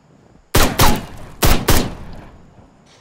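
Loud gunshots in the video game Ride to Hell: Retribution, four heavy blasts in two close pairs with a ringing tail, then quiet, and another shot starting at the end.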